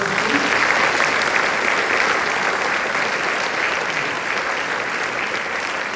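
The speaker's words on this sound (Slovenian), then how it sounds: "Še en aplavz." A concert audience applauds a mixed choir at its 30th anniversary celebration, a dense, even wash of clapping from many hands holding steady and slowly easing in level.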